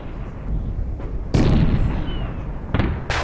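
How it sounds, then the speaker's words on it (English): Ship cannons firing in a Napoleon: Total War multiplayer naval battle, a loud booming volley followed by further heavy blasts over a rumbling background. "as I maintain fire on the British ships."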